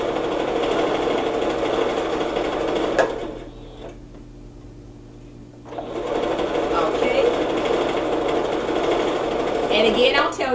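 A home sewing machine stitches fabric for a tiger-print dress, running in a steady mechanical whir that cuts out for about two seconds mid-clip and then resumes at close range.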